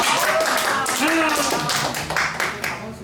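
A church congregation at a Sunday worship service clapping together in a dense, steady burst, with a voice speaking over the applause.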